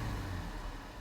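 A 2018 Jeep Grand Cherokee Limited engine revs in a low, steady rumble, close and continuous for about a second, with a deep hum easing slightly toward the end.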